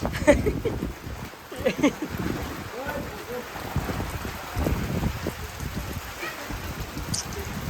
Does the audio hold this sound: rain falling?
yes